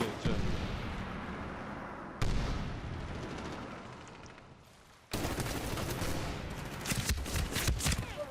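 Bursts of gunfire and explosive booms from the multiplayer shooter game Medal of Honor Warfighter, loud and continuous with sharp onsets near 2 and 5 seconds and rapid crackling shots toward the end.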